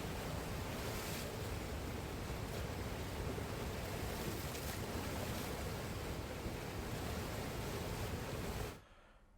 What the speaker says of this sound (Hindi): तस्वीर देखिए किस तरह से पानी की लहरें विकराल दृश्य दिखा रही हैं